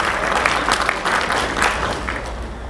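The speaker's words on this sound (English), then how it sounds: "Ladies and gentlemen, another round of applause for my king" An audience at a convention gathering in Houston applauds a guest of honor, dense continuous clapping with a few louder bursts, close and sustained for the whole stretch.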